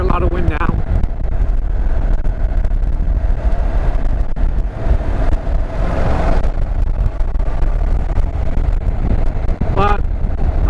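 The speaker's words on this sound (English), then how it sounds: "You probably hear a lot of wind now." Heavy wind roar buffets the microphone while riding a Honda NC700X DCT motorcycle, a constant loud rushing that swamps the engine sound throughout, with a rider speaking over it.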